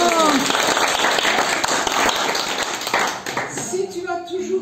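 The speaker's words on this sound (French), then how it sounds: "Bravo! On applaudit." Family members applaud at a 100th birthday celebration, a dense burst of close clapping mixed with cheering voices, loud at first and thinning out near the end as talk takes over.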